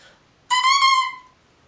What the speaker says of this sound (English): The oboe reed sounds like this.